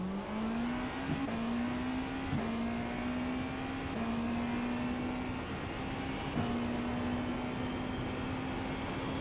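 A race car engine in the iRacing sim drones steadily at high revs, with a few brief dips and shifts as the car brakes and picks up speed again, heard alone and fairly loud throughout.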